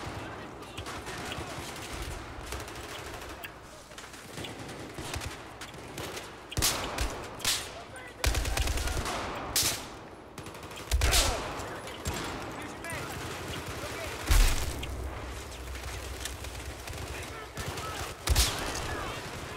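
Gunfire in Battlefield 4: scattered bursts and single sharp shots with loud impacts at intervals over a low rumbling background, while a player talks excitedly over the action.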